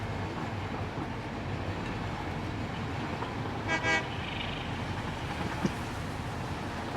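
A brief train horn toot rises over a steady mechanical rumble of a moving train in the Satisfactory video game, with a small click just after; no talking.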